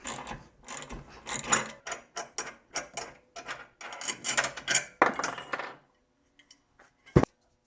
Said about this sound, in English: Now I will loosen this bolt here.